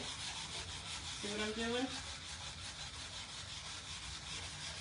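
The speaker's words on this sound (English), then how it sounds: "Let's go ahead and buff this with our sander just a little bit, very fine" An electric sander lightly buffs a piece of wood to a fine smooth finish, giving a steady, moderately loud whirring rasp that runs throughout, with a brief spoken remark partway through.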